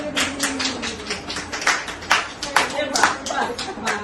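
A small group claps in quick, uneven bursts, close by, with voices murmuring underneath.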